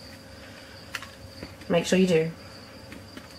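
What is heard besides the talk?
crickets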